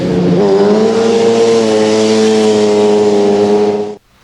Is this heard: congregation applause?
no